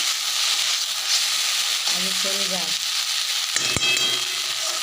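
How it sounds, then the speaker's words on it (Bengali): Okra (bhindi) fries in a pan with a steady, close, bright sizzle that runs the whole time, while someone talks briefly over it in two short stretches. "ভেন্ডি ভাজা আজকে রান্না হচ্ছে"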